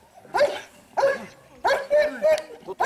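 A young dog barks repeatedly during a dog-training session, five or six loud, close barks and yips in an uneven rhythm, with short quiet gaps between them.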